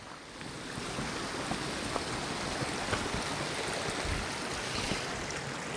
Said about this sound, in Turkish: bu sefer de suyun başındayız